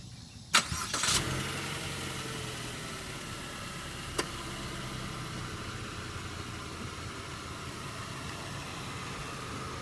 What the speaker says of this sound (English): Now let's start up the engine